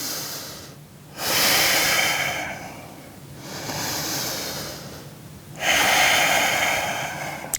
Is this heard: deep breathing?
yes